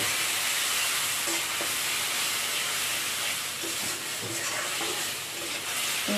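Tomato paste and spices frying in hot oil for chilli paneer, a steady broad sizzle and hiss with occasional soft scrapes of stirring, close and continuous with no talk.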